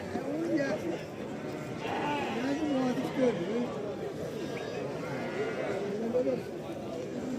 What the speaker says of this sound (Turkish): Bax bu quzular.